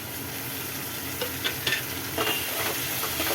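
Onions, curry leaves and chopped tomatoes sautéing in a pan, a steady low sizzle broken by a few close, brief stirring scrapes and clinks, with no voices.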